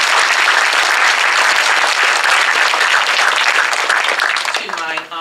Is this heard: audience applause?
yes